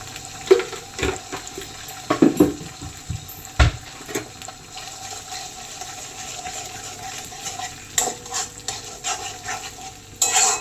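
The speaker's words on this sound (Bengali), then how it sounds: "এবার একটা ভালো করে ফ্রাই করে নেব।" An egg fries in a pan for Maggi noodles, a soft steady sizzle with stirring scrapes and clinks scattered across the stretch, close-up and fairly quiet with no voices.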